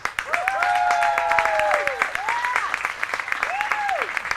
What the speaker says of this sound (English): A big round of applause for the Challenger League athletes.